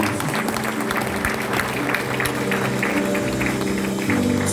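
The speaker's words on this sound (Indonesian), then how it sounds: "Beri tepuk tangan untuk Tuhan Yesus." Church congregation applauding during a Sunday service at GBI Sawangan, a steady dense wash of clapping with crowd noise and sustained tones, as if music or organ hums beneath, filling the whole stretch.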